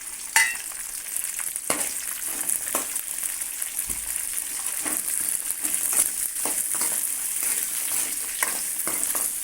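Shallots, garlic and green chillies sauté in a pan for a dried-fish curry, with a steady loud sizzle of frying throughout and occasional scraping stirs, no voices.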